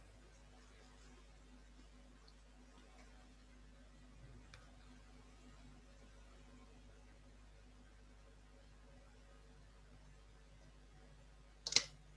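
A single sharp computer mouse click near the end, preceded by a faint click, against a quiet low hum with no talking.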